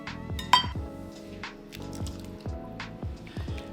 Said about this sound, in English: We're gonna go ahead and add in our potatoes.